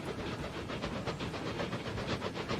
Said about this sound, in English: we see that train running by right now